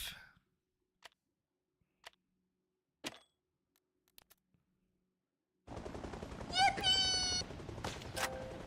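Sparse, sharp shots snap at intervals of about a second in the video game Arma Reforger, quick cracks separated by silence, followed by a louder dense stretch of rumbling noise and whining tones toward the end.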